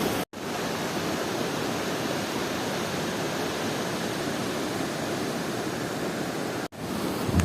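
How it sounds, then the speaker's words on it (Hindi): Spring water flowing steadily in Baboon Valley, a continuous broadband rush like a small stream or waterfall, loud and close, with no voices. "मुझे ना ये पानी बड़ा प्यारा लगा चश्मा"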